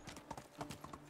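Hooves of a donkey clip-clopping in the medieval survival game Medieval Dynasty, a quick run of soft, even knocks at walking pace, faint and close, over barely a second with no talk.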